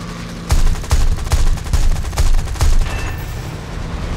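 A 37mm aircraft cannon fired in War Thunder, six loud heavy thumping shots in a slow, fairly regular rhythm over about two and a half seconds, then a quieter engine drone.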